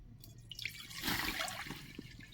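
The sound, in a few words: water poured into a wok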